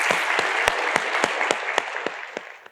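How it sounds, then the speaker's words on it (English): Applause from a conference audience at a cloud cost and engineering leadership session, with rhythmic, evenly spaced loud claps near the microphone over a crowd's clapping that tapers off at the end. "Big round of applause."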